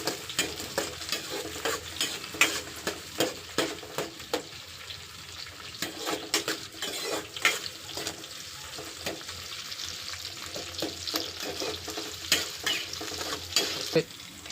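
Onions fry in a pan with a continuous crackling sizzle, while frequent scraping and stirring strokes sound close and even throughout.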